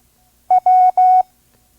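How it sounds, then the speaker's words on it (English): Morse code letter W sent as steady beeping tones: one short pulse followed by two longer ones in a quick, even sequence, clean and loud against silence. "Here is our next Morse code letter."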